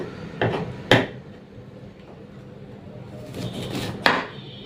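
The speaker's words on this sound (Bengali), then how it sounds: "দেখুন ছোটো ছোটো কাটা হচ্ছে একদম" Garlic being chopped into small pieces with a knife on a board: a few distinct close knocks, two early and one near the end, with quieter scraping between.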